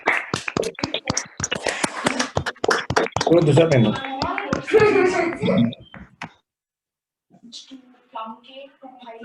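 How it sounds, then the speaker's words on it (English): Participants in an online club meeting clap after unmuting, a rapid, uneven burst of close claps and taps mixed with chatter and voices, then fading to brief speech after a pause. "Let's unmute all and give ourselves a good round of applause for the heart."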